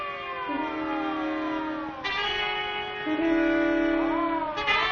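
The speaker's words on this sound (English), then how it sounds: "It's a siren. Probably an ambulance or a police car." A wailing siren with rising and falling harmonic tones, loud and steady throughout, shifting pitch sweeps near the end.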